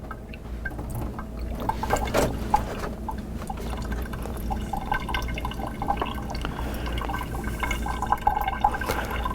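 Water drips and trickles as a jar is rinsed out during water-treatment jar testing, a steady wet splashing with scattered drips, fairly close and moderate throughout, with no talking.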